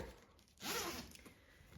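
A big zipper on a handmade canvas knitting needle case is pulled open in one quick, soft, close zip, quiet and with no talk.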